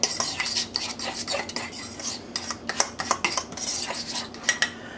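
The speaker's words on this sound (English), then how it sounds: "Give that a good mix." A utensil stirring a side dish with horseradish in a bowl, giving busy clinking, scraping and tapping at close range over about five seconds, no voices.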